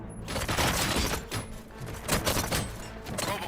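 Dense bursts of gunfire crackle in Robocop: Rogue City, loud and overlapping with harsh impacts and rattling mechanical noise, sustained for several seconds without clear pauses.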